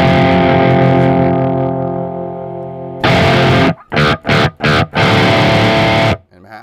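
Sustained electric guitar tones with light overdrive crunch, followed by a run of choppy rhythm-part strums separated by short gaps.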